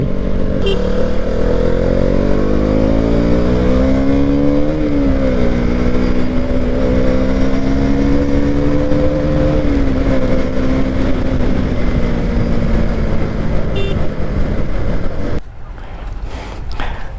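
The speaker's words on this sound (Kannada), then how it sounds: "ಒಳ್ಳೆ ರಾ ಪವರ್ ಥರ ಇದೆ ಗುರು, ಸಖತ್ತಾಗಿ ನುಗ್ಗುತ್ತೆ ಥ್ರಾಟಲ್ ಓಪನ್ ಮಾಡಿದ್ರೆ ಗಾಡಿ" A 25 horsepower motorcycle pulls hard with the throttle open, its engine note climbing and wavering in a loud, continuous rev that cuts off abruptly near the end.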